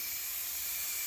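Compressed air nozzle hissing steadily down inside an engine cylinder of a 2014 Jeep Grand Cherokee SRT8 with a 6.4 Hemi, a continuous bright rushing hiss at constant level, close and alone.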